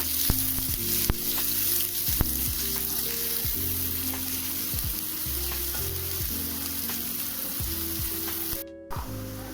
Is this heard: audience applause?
no